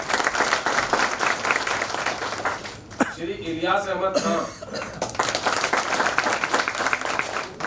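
Applause from the audience at an annual election meeting as elected members' names are read out, broad clapping filling most of the clip with a brief lull where someone speaks, then the clapping resumes strongly.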